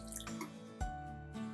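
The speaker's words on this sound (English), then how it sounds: "Add in some water to bring it to a gravy consistency." Water poured into tomato gravy in a pan gives a short faint splash and drip with a soft squishy sound as the liquid hits, a brief quiet burst in a kitchen.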